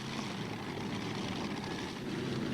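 Pulling tractor powered by five Chevrolet engines roaring at full throttle during a tractor pull, a dense, steady, loud engine drone with no pauses.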